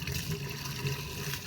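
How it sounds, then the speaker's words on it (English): Water rushing and gurgling from a flushing toilet, a steady full-bodied wash that holds at an even level throughout, with no voices over it. "Have your sister flush the toilet again."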